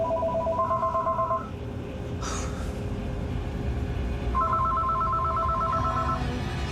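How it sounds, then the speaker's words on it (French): Telephone ringing in a hotel during a paranormal investigation, two bursts of electronic trilling tones separated by a pause, fairly clear over a low background hum, with a brief noise between the rings and no talking. "la sonnerie du téléphone leur a fait très peur"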